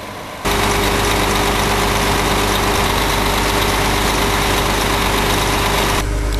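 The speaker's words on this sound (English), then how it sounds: "Its 520 horsepower cat engine is the grunt behind the otherwise simple internal design." The 520-horsepower Cat engine of a Massey Ferguson 9895 harvester header runs loud and close, a dense, constant diesel roar with a heavy low rumble that kicks in sharply and holds steady throughout.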